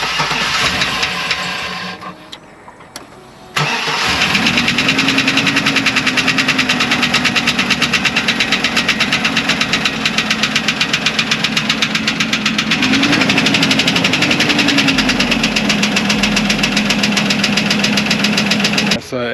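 A van engine with low oil runs with a steady rapid mechanical knock, loud and continuous after a brief quieter gap near the start, with a faint rise in pitch partway through.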